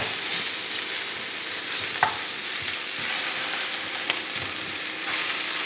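Chicken pieces sizzling and frying steadily in a hot pan, a continuous close crackle with a couple of sharper pops and faint stirring, no voices.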